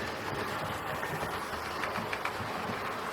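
A Hornby King Arthur class model locomotive runs with a rake of Southern Railway coaches, giving a steady, fairly quiet rolling rumble with faint clicks from the track and no voices.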